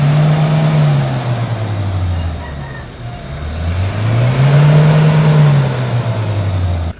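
A Ford Ranger 2.2 manual pickup's diesel engine is revved up close, rising and falling in two long sweeps between idle and about 4000 RPM, loud and steady.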